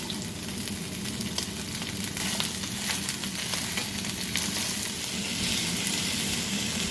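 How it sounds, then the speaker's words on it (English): Shredded cabbage fries in a hot skillet with a steady, even sizzle, and a spoon stirs it in soft scraping strokes throughout. No one speaks. "now we're going to add that cabbage and stir and cook that for several minutes just until it starts to wilt"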